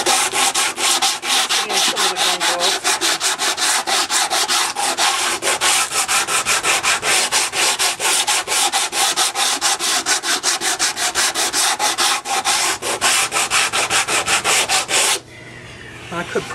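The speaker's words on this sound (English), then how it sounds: "Let me take my little sanding block here." A small hand-held sanding block is rubbed back and forth across model railroad scenery, giving a rapid, rhythmic scratchy rasp of close, loud strokes that continues steadily before stopping abruptly near the end.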